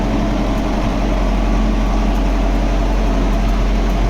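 An MTZ tractor engine runs through its break-in, a loud, steady low rumble at constant speed, close by and without voices.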